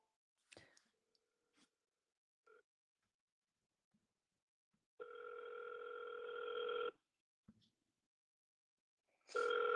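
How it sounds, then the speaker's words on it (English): Telephone call being placed: scattered soft clicks and taps, then a steady two-second tone, more clicks, and another tone starting at the end, all close and clear in a quiet room. "I'm gonna just start dialing"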